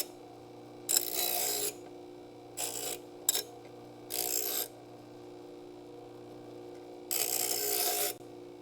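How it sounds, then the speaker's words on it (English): Angle grinder working a freshly cut metal plate in a car restoration shop, in four or five separate bursts of broadband grinding, each under a second long, with a steady low hum running between them. "Now with less getting caught in the grinder."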